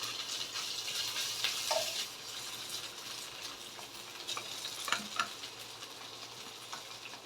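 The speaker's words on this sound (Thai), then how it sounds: "ผัดพริกแกงให้หอมนะคะ" Vegetarian red curry paste stir-fried in a pan for tofu with shredded kaffir lime leaves, a soft steady sizzle with scraping spatula strokes, close by and without talk.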